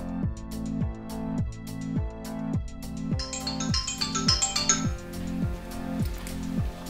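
A phone rings with a repeating electronic tone, a steady pulse of about eight short bursts at close range and fairly loud, with brighter chiming notes layered over the middle of the ringing.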